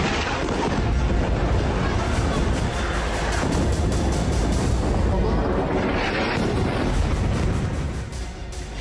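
Explosions and artillery fire in Lebanon form a loud, continuous rumbling roar with dense booming that stays heavy throughout and eases slightly near the end.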